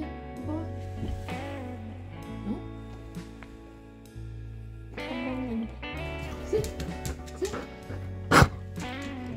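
A young puppy whimpers and yips in high, thin, drawn-out cries over a steady low indoor hum, with a brief louder squeal near the end.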